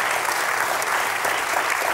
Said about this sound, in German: Hier kommt ja massiver Beifall.